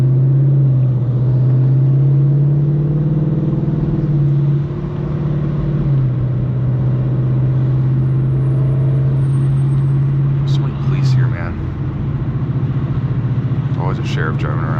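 A Ford Mustang GT engine drones loudly from inside the car as it drives and accelerates, its pitch rising steadily, then dropping briefly at an upshift before climbing again, with a few faint clicks near the end.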